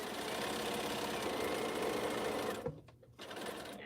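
A sewing machine runs a long continuous stitching burst while sewing binding onto a charity quilt with fluffy polyester batting, then stops abruptly and is followed by a few short stitches and a soft mechanical knock.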